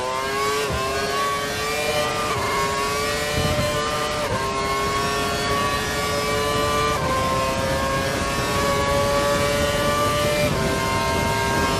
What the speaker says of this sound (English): We think the car behind is running on full revs.